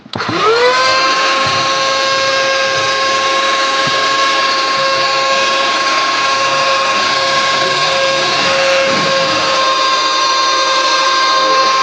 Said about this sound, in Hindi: तो यहाँ पे थोड़ी सी मिट्टी हमने डाल दी है, अब इसको सक करके रखते हैं।